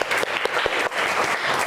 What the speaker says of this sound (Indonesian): Tepuk tangan dulu dong buat kelas 4